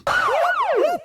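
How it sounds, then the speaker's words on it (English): A police siren wails loudly and close in two rising-and-falling sweeps, heard alone. "That's the sound of the police."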